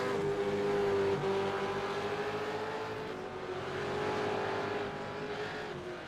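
V8 Supercar race cars circle the Barcelona track in the iRacing sim, a loud, steady engine drone holding near-constant pitch with slight rises and falls throughout, and no talk.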